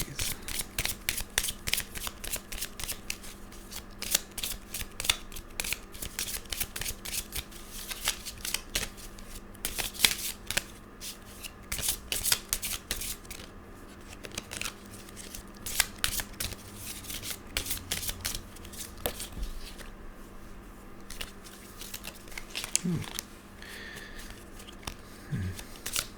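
Tarot cards are shuffled by hand to draw clarifiers: close, continuous rapid riffling and flicking, with bursts of sharp card snaps that repeat for nearly half a minute and no talking.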